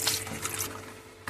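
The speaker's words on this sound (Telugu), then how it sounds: "కొంచెం వాటర్ వేద్దాం." Water poured into gram flour batter for bottle gourd bajji, a short close splash and trickle, loudest at the start and fading, then a brief clink at the end.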